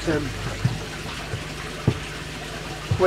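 Water trickling down inside a custom betta fish tank, a quiet steady flow with a few soft drips and knocks, accompanied by a faint low hum.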